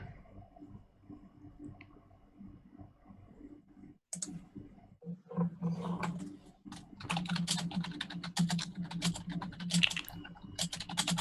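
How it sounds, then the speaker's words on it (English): Rapid clicking of computer keys, sparse at first then settling into steady typing bursts close to the microphone, with a low hum behind. "typing away"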